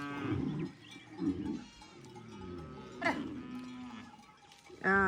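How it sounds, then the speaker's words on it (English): Herd of cattle in rural Ethiopia lowing repeatedly, several deep moos rising and falling at different distances, with a louder close moo at the end and faint bell-like livestock sounds in between. "Богатое племя, столько коров имеет."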